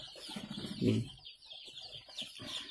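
Joper chicks chirp and cheep in a brooder, a dense overlapping chorus of high peeps, with one louder, lower cluck-like call near the start.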